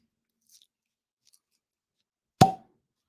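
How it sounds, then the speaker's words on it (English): A cork pops from a freshly opened whiskey bottle: one short, sharp plop after near silence, preceded by a couple of faint ticks. "Pretty solid cork pop."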